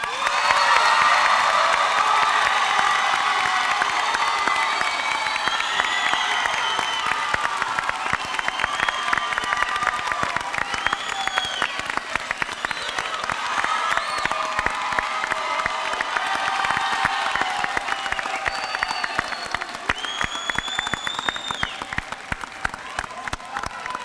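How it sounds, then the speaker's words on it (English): Large graduation crowd at an Arlington ISD summer ceremony applauding the graduates, a long sustained roar of clapping mixed with cheers, whoops and children's shouts, loud and continuous throughout. "let's give them one last round of applause"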